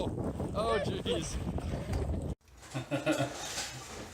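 Strong wind buffets the microphone beside a boat on a whitecapping lake, a loud roaring rush that cuts off abruptly midway, followed by quieter gusts and water sounds with faint voices.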